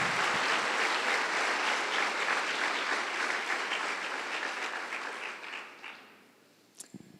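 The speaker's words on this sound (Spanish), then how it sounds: "¿Y qué tal si les saludamos con un aplauso?" Audience applause for guests at a Spanish-language church talk, a dense steady clapping crowd that gradually thins and fades out near the end, with a brief knock at the close.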